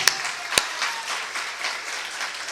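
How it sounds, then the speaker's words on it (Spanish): Congregation applause in a Spanish-language church service: a short, fairly quiet wash of clapping with a couple of sharp individual claps near the start, with no talking over it. "Ustedes aplauden aquí, den un aplauso a Cristo"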